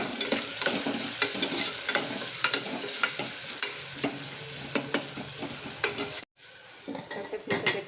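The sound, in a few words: frying with ginger garlic paste and salt in a pan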